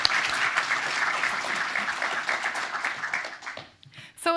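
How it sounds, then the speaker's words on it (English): Conference audience at the Hanaholmen Initiative Summit 2023 applauding a minister, dense sustained clapping that fades out toward the end, followed by a brief sound at the close. "And please join me in applauding the Civil Minister for Civil Defence."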